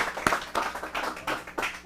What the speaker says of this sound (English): Clap it up, please.